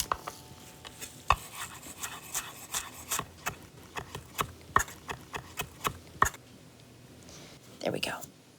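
Fresh parsley chopped with a kitchen knife on a board: a steady run of crisp, close taps about every third of a second, then a short pause and a softer scrape near the end.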